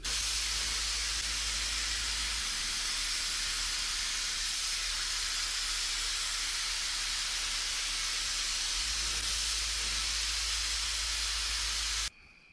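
A spray gun lays a coat of paint on the bodywork of a '59 Dodge Coronet with a steady, loud, continuous hiss that runs without a break until it cuts off abruptly at the end.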